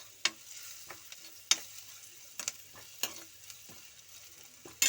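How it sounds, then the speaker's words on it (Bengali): A spoon stirring paneer bhujiya seasoned with salt and cumin powder in a pan, soft scraping under a faint sizzle with scattered sharp clicks of utensil on metal. "নুন দিয়ে ভালো করে নাড়তে হবে।"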